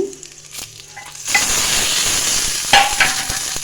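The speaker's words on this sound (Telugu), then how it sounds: "ఈ విధంగా ఫ్రై అయ్యాక మనం తీసుకున్న వెల్లుల్లి రెబ్బలు, జీలకర్ర వేసుకున్నాము." Garlic cloves and cumin seeds frying in a pan for amaranth leaf chutney: after a second of quiet stirring, a loud, close sizzle bursts up and holds steady, with a few scraping stirs.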